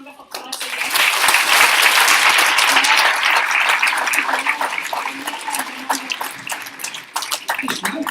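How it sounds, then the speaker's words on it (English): An audience claps loudly after a classical Indian dance recital in Hong Kong, a dense burst of applause that swells quickly and then thins into scattered claps toward the end. "I think she needs a wonderful round of applause again."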